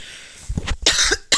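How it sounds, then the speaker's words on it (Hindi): A man coughs in short harsh bursts, three or four hoarse, chesty coughs close to the microphone in a quiet indoor setting. "यार खांसी बहुत हो रखी है मेरे भाई"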